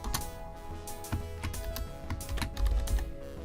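Quick, uneven keystrokes on a computer keyboard while a name is entered in the DOS game The Oregon Trail, close and crisp with short pauses, and no one speaking.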